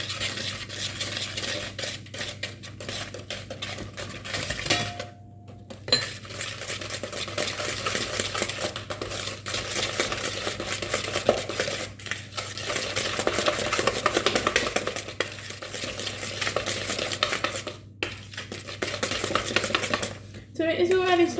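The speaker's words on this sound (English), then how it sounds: "now I'm going to start to give all of this a good whisk up." Victoria sponge cake mixture whisked by hand in a bowl for a strawberry and cream sponge, a steady scraping, stirring rhythm running throughout with a few brief pauses and faint clinks.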